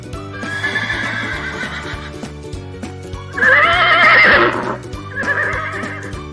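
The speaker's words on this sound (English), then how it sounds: "Horse." A horse neighs in two loud whinnies, the second shorter, over a steady clip-clop of hooves.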